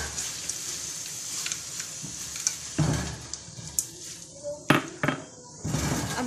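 Frozen pre-boiled peas go into a frying pan for an iftar dinner, a soft sizzle broken by scraping and sharp metallic clinks of a utensil stirring against the pan, close and irregular.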